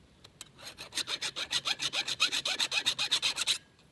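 A file sharpens the chain of a Husqvarna 372xp chainsaw in a quick run of about twenty even rasping strokes, close and clear, with no talk.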